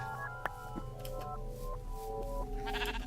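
Sheep in Minecraft bleat in a few short, wavering calls spread across the stretch, over a steady background hum with no talking.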